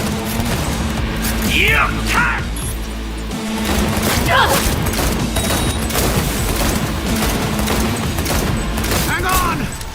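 Heavy sustained gunfire from the video game Cyberpunk, dense rapid bursts and booms filling the whole stretch, loud and close, with shouting voices and in-game chatter over the shooting.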